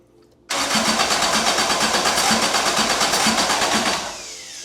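A Toyota 4A-GE 20V black top engine in an AE86 cranks without catching: a loud, rhythmic starter whir churns steadily for about three and a half seconds, then winds down into quiet.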